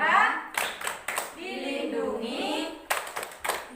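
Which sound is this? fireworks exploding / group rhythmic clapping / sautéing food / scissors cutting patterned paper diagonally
group rhythmic clapping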